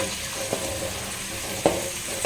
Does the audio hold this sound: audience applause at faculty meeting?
no